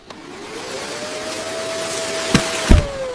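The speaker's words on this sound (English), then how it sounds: "Vacuum the carpet." Vacuum cleaner running on carpet, a steady whirring motor hum that swells slightly, with a couple of brief bumps and knocks near the end and no voices.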